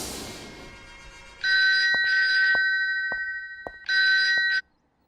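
A telephone bell rings loud and close in two bursts of double trills separated by a pause, with faint clicks in between and a short noisy swell at the start.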